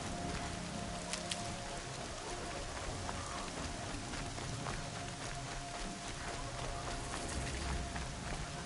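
Steady rain falls on the ground in the game Horizon Zero Dawn, a soft, continuous patter with scattered drops, faint and even throughout with no voices.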